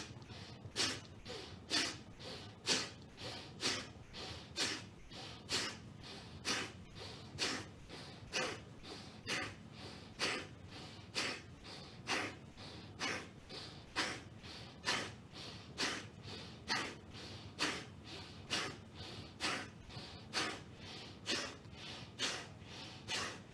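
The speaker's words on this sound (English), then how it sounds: "begin breath of fire" Breath of fire in Kundalini yoga: rapid forced exhales through the nose, heard as a long, steady run of sharp rhythmic puffs, about two per second, close and without a break.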